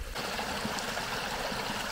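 Water in a small wild stream that is used as a drinking source flows in a steady, continuous wash, soft and even, with no voices.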